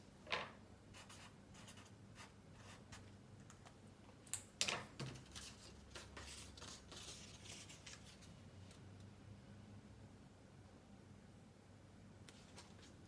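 Pencil or pen on paper writes out a short word, a soft scratchy scribble with a burst of quick strokes in the middle, very quiet and close, with no voice.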